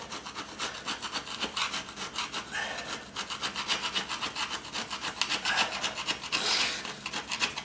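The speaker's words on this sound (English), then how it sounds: "it's going to be slow going because I have just this chisel" Steel chisel scraping and rasping at old linoleum flooring, a steady run of short scratchy strokes close by, continuous and fairly loud with no talking.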